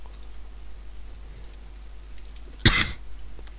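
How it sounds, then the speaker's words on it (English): A single short, close cough bursts out once in an otherwise quiet room with a faint steady hum, no one speaking. "I have still a bit of a cough, as you can tell from last episode"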